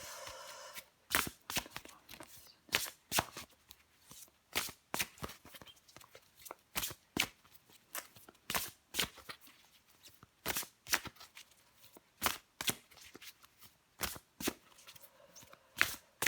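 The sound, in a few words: tarot cards being shuffled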